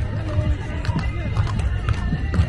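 Dancing horses at a crab festival in El Salvador, with rhythmic hoof thuds and shuffling steps on the ground amid crowd noise and someone talking nearby.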